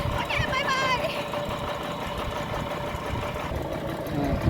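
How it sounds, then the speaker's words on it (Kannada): An old vehicle's engine hums steadily as it is driven, a continuous low rumble running throughout with road noise, while someone talks over it. "ಈ ಗಾಡೀಲಿ ನಾನು ಡ್ರೈವಿಂಗ್ ಹೋಗ್ತಾ ಇದ್ದೀನಿ"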